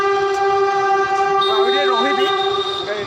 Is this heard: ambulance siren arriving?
no